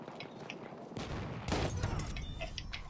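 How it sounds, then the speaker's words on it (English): A double-barrel shotgun loaded with slug rounds fires in a video game, two heavy blasts about half a second apart over a busy, noisy backdrop. "Double barrel fucking slug rounds"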